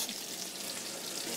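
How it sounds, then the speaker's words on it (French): A pike-perch fillet fries skin-side down in a hot pan, giving a steady, fairly quiet hiss and crackle of sizzling oil with no talk. "On commence toujours la cuisson par le côté peau."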